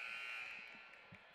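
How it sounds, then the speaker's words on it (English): A basketball game buzzer sounds during a first-round high school tournament game between the Elsberry Indians and Winfield Warriors, a steady electronic tone that fades slightly over about a second and a half with faint crowd noise underneath. "So the buzzer says, get your boys out here."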